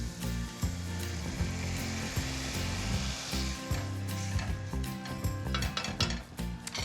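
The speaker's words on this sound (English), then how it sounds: "I'm going to extinguish this with the wine, basically deglaze it. A little bit of white wine." White wine poured into a hot pan of browned beef for a Greek Naxos-style dish, raising a loud, steady sizzle and hiss with clinks of a utensil against the pan.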